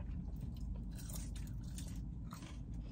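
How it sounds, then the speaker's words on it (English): Crunchy Burger King chips are chewed close to the mic, giving a steady run of crisp bites and mastication over a noisy background, with no speech. "They've got a nice crunch to them."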